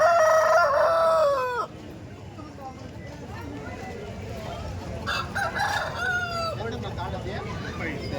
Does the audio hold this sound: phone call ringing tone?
no